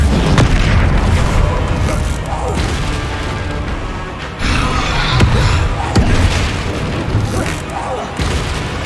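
Confringo fire spells exploding in Hogwarts Legacy gameplay, a dense run of loud booming blasts and crashes over game sound, with a voice calling out spell names.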